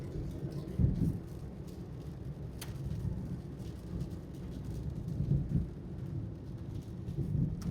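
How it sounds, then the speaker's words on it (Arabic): Steady rain hiss on a street in Baghdad with low rumbling traffic underneath and a few louder swells of passing vehicles, no speech. "الاجواء الممطره ببغداد"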